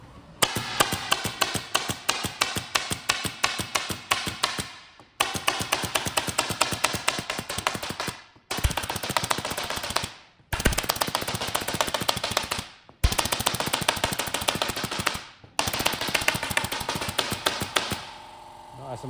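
A 4PRO AIR 20S pneumatic stapler, run from an oil-free compressor, fires staples in fast rapid-fire bursts of sharp clacks. Six long volleys are separated by brief pauses, loud and close, with no talking.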